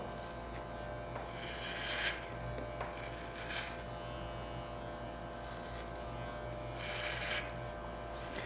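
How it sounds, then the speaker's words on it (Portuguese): An electric hair clipper buzzes steadily through a degradê haircut, a constant close hum with brief brighter swells as it passes through the hair, no talk. "Eu gosto de segurar esse cabelo que está grande aqui, ó, para me cortar ele com a máquina"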